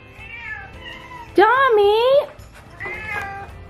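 Several unhappy cats meow in their cages, with a loud, drawn-out wail in the middle and softer mews before and after, while someone speaks to them in between.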